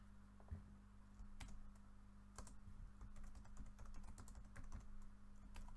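Slow, uneven keystrokes on a computer keyboard, clicking in scattered bursts over a steady low electrical hum, close and moderately quiet.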